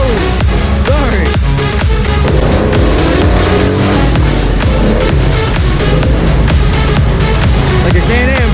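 An off-road side-by-side revs hard through a muddy trail at a ranch mud ride, its engine roaring loud and close with surging throttle bursts, mixed with crowd noise and voices throughout.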